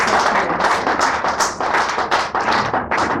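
An audience at a French-speaking gathering breaks into loud, dense applause, close and continuous, with sharp individual claps throughout the few seconds.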